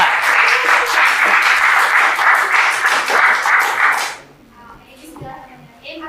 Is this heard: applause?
yes